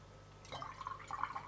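Paintbrush rinsed in a water jar while mixing watercolour, quiet swishing and dripping splashes starting midway, close and soft with no talk.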